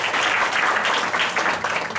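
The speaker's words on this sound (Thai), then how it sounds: "Can you give a round of applause to Jerry Lee?" Audience applause at a success-story event, continuous dense clapping from a crowd, loud and close, filling the whole moment without speech.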